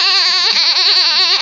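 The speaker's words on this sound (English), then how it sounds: "A sheep." A sheep bleats in one loud, sustained, wavering cry lasting over a second, close and alone.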